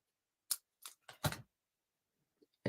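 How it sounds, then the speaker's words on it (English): Scissors cut material down to size, producing four quick, crisp snips close by, followed by quiet and a faint tap at the end. "I need to cut it down to about 7 inches."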